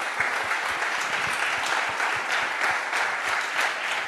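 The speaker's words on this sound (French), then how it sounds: "On peut vous applaudir déjà." Sustained applause from an audience at a parliamentary-style economic debate event, many hands clapping steadily at moderate distance in a hall, individual claps faintly discernible, with no speech over it.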